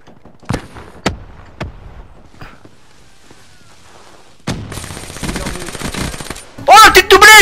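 Gunfire in Call of Duty Black Ops 3: a few separate sharp shots, then a sustained burst of automatic fire, ending in loud crackling blasts, all close and loud.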